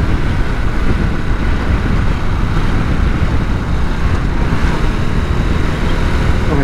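A 2022 Harley-Davidson Nightster 975 motorcycle riding steadily in third gear at around 50, a loud continuous engine drone mixed with heavy road and wind rush from start to finish.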